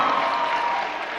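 Crowd applause at an outdoor youth political rally in Eldoret, Kenya, a loud, dense wash of clapping and cheering that holds steady without any voice over it.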